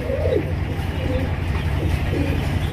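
White Rasgolla pigeons coo softly in low, rolling calls, partly covered by steady background noise from a busy market setting with someone talking nearby.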